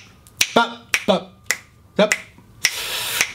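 Sharp finger snaps land on the beats in a steady pulse, several crisp clicks close by, with singing or a voice running between them.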